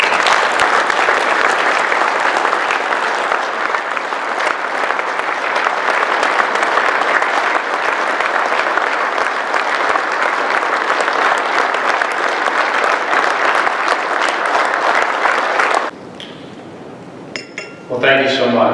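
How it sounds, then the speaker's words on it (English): An audience at a memorial tribute gives sustained, dense applause for roughly sixteen seconds, then it stops abruptly and a few faint sounds follow. "Please join me in giving Jerry a round of applause in recognition of his life and his accomplishments."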